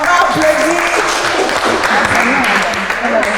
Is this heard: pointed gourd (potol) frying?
no